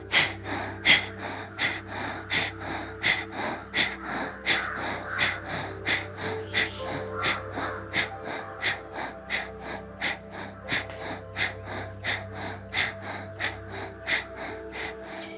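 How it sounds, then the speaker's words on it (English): Forceful yogic breathing in which both inhalation and exhalation are pushed equally hard, like an old steam engine: a fast, steady run of loud, close breaths repeating for the whole stretch with no speech. "Here both inhalation and exhalation are made equally forceful."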